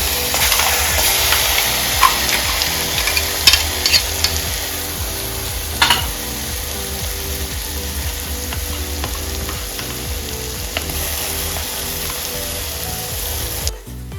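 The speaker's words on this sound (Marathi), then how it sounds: "मिश्रण चांगलं बारीक गॅसवरती आपल्याला तळून घ्यायचं तेलामध्ये" Ground masala paste for a paneer curry fries steadily in hot oil, a dense continuous sizzle with scraping stir strokes and occasional sharp pops, close and alone with no talk, ending in a brief clatter.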